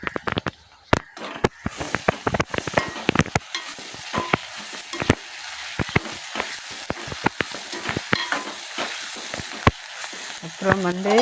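Curry leaves crackling and frying in hot oil for a Batticaloa-style prawn curry, with sharp sizzling pops and spits scattered throughout alongside occasional stirring, close and fairly loud.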